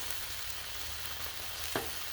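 Two slices of bologna sizzle steadily on a griddle heated to medium low, a continuous close frying hiss with one brief sharp tick near the end and no talking.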